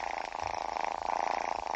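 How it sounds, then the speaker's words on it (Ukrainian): A cat's purr plays as a sound effect in a phone app, a steady close rumbling purr with a soft rhythmic pulsing and no other sounds. "нажимаючи на яку ви можете почути, як котик мурчить"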